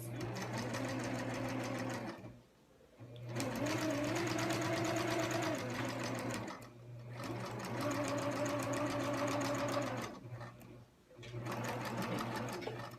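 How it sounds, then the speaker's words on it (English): A sewing machine runs in close, fast steady bursts, basting a zipper in place with needle-down on, pausing briefly twice before starting up again. "I've got my basting stitch needle down function on, and I'm just going to sew"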